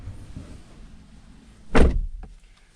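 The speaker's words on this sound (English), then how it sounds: "Let me close the door." A single solid door slam on a 2025 Chevrolet Silverado EV pickup, heard from inside the cab: a loud broadband thud followed by a short rattle and latch click, with quiet cabin ambience before it.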